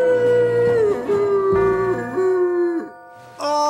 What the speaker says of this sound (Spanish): ¡Deja de aullar a la luna tontamente y sin sentido!